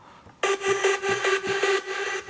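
Hard NL synth layer for big room EDM, a bright open saw-wave sound entering abruptly after a brief quiet lead-in and sustaining loudly with a repeating pulsed rhythm, alone without voices.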